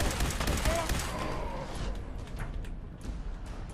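Institute rifle fire in Fallout 4 comes in rapid crackling bursts, strongest at the start and then thinning into a quieter, scattered texture, with faint speech underneath.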